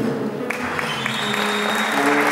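Audience applause at the Pergamino International Blues Festival in Argentina, a dense, steady wash of clapping filling the whole stretch, loud and close, with faint murmurs of voices mixed in.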